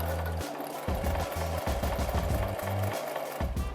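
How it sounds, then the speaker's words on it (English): A sewing machine back stitching a fabric coin purse pouch runs in close, loud bursts, starting and stopping several times with a steady mechanical whir and rapid needle pulses. "I stitch a few, back stitch a few stitches to make sure it stays in place"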